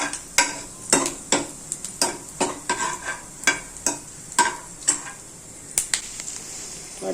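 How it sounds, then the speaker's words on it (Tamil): Spices for a South Indian fish curry sizzle in hot oil while a spoon stirs them through the pan in a steady rhythm of sharp scraping strokes, close and clear, with no talking. "இந்த மீன் குழம்புல இது நல்லா பொரியட்டுங்க."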